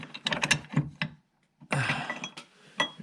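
A wrench lightly tightening a bolt and nut while installing a Power-Pole shallow water anchor, close clicking ratchet and metallic clinks in short bursts with a brief pause.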